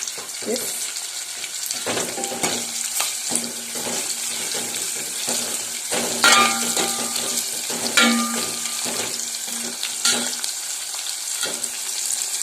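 Ingredients for a simple sambar frying in oil in a home kitchen, a steady hiss under scattered clinks, stirring and a few louder knocks, with no talk.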